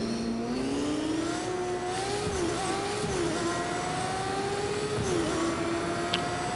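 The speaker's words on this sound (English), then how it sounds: "I'm gonna take this motorcycle." A motorcycle engine in Fortnite hums loud and steady, its pitch rising and dipping through several revs over a constant background drone, with no talking.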